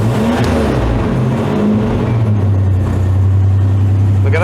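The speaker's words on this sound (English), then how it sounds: "I'm going to give her a little throttle." A Ford Capri Brooklands Turbo with a stalling fault and a raw-fuel smell revs under light throttle, its engine note climbing and then settling into a steady, loud, close drone.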